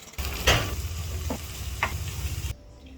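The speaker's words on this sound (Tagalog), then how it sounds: "Itlog na may kamatis at langgunisa lang naman ang lulutuin ko." Eggs frying with tomato and sautéed onion and garlic, a close, steady sizzle with a few stirring scrapes, ending abruptly.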